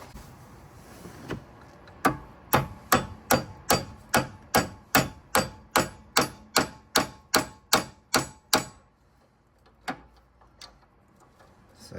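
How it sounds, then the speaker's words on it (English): Metal tool hammered during a coil spring change on a 2017 Suzuki Swift: a rapid run of about sixteen sharp, evenly spaced strikes, loud and close, followed by a few scattered taps and no talking. "hammer it a little bit in there."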